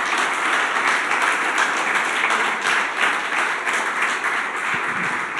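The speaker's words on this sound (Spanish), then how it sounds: "dale un aplauso al Señor si querés aplaudirlo" Sustained, loud congregational applause in a church service, many hands clapping in a dense steady roar that holds level throughout without speech.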